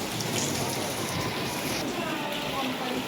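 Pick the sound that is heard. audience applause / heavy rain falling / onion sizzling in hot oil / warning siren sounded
heavy rain falling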